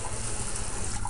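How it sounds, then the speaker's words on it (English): Cold water runs from a sink tap over the outside of a beer growler, a steady close splashing hiss with no break. "just turn on a little bit of cold water, rinse off the side of the growler"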